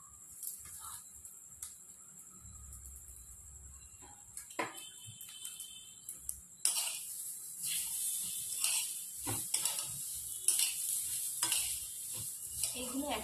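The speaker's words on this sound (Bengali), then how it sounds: "এইগুলো একসঙ্গে ভেজে নেব।" Grated coconut fries with salt in a pan, starting with quiet scattered scraping and clicks of stirring, then a louder bright sizzle that rises and continues to the end, broken by repeated stirring scrapes.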